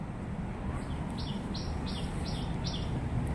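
Crows in a city walkway on the way to IKEA Damansara give a series of about five short, evenly spaced calls, faint over a constant loud background hum of traffic.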